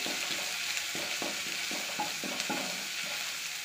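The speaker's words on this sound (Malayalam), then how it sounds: "വെളിച്ചെണ്ണ നന്നായിട്ട് ചൂടായിട്ടുണ്ട്. ഇതിലേക്ക് ഇഞ്ചി വെളുത്തുള്ളി ചതച്ചത് ചേർത്ത് കൊടുക്കാം. മിക്സ് ചെയ്ത് കൊടുക്കാം." Crushed ginger and garlic sizzle in hot coconut oil in a pan, a steady close frying hiss broken by soft, regular scraping strokes as the mixture is stirred.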